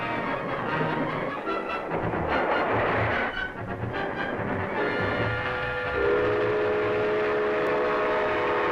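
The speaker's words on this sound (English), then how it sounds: "Both trains are on the same track." A train running on track in an old film, with loud rumbling wheels and rhythmic clatter of railroad cars, followed by a sustained horn or whistle tone over the rolling noise in the final seconds.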